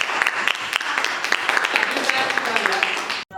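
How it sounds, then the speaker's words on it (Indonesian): Classroom students clapping for a classmate named Sheryl, a brisk scatter of handclaps lasting a few seconds that stops abruptly, with chatter mixed in. "Jadi tepuk tangan untuk Sheryl"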